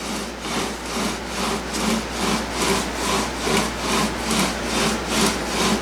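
A toggle drill bores into wood with a steady back-and-forth rasping, roughly two strokes per second in an even rhythm, close and clear with no talking.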